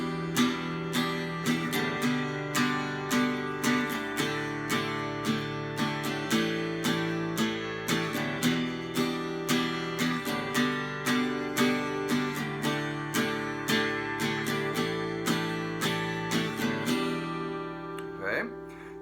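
Acoustic guitar strums a song's chords in a simplified steady pattern, four chords with evenly spaced bright strokes, clear and close, alone with no talking.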